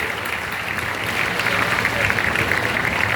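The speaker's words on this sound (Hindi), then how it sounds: "तालियां बजती रहनी चाहिए।" Audience at a youth debate event claps continuously, a dense steady patter of applause that swells slightly toward the end, loud and close throughout.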